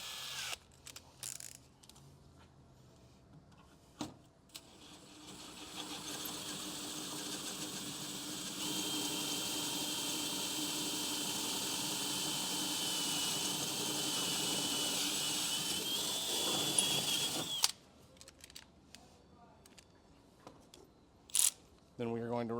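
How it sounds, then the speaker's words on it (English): A power drill with a 6-inch, 1/4-inch bit drills up through a Ford F-150 truck bed, whining steadily for about twelve seconds, loud and close, framed by scattered clicks and handling noises before and after. "using the supplied 6-inch long 1/4-inch drill bit, we're going to drill up through the bottom of the bed"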